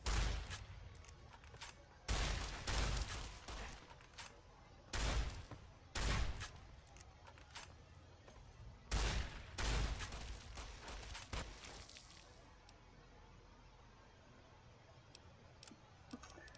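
Gunfire in Fallout: New Vegas comes in several loud bursts spread over the clip, each a short cluster of rapid shots, with quieter game ambience between them and a calmer stretch near the end.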